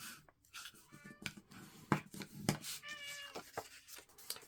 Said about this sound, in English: my cat just came in the room to speak his mind, I guess, and probably can hear him in the background here